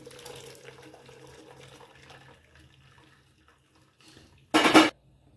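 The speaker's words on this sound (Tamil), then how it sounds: "கொஞ்சம் குளிர்ந்த தண்ணியை ஊற்றும்" Cold water is poured through a cotton cloth strainer set in a steamer while making rasagulla. After a quiet stretch there is a short, loud burst of splashing near the end.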